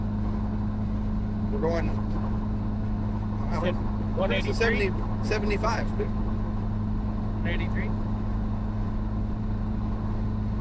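A Top Kick truck with about 180,000 miles drives along a road, its engine giving a steady, loud low drone throughout while someone talks over it.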